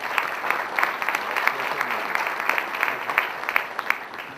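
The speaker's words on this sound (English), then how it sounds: "So big round of applause for yourselves." A hall full of people applauds in a dense, sustained burst of clapping that stays fairly loud and even throughout.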